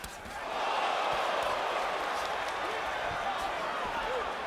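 A crowd at a boxing match in Atlantic City swells into a broad, roaring cheer after an exchange and holds that level, with a commentator's voice faint beneath it.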